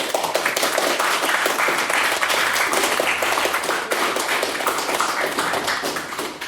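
Audience at a formal debate applauding a speaker introduced for the opposition, a loud sustained burst of many hands clapping at once, steady throughout and fading a little at the close, with no voices over it.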